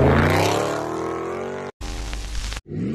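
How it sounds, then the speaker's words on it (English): A Dodge car drifting, its engine revving in a loud rising whine with a brief cut-out, then roaring again at close range, with no voices. "This Dodge drifts a little bit."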